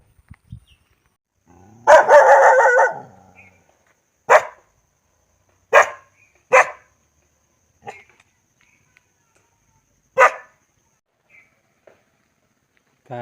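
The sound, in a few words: dog barking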